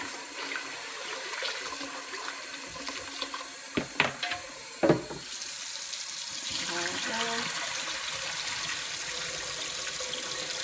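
Warm water runs from a tap while rinsing rice, a steady rush with a few splashy bursts, close by, filling the scene for the whole stretch.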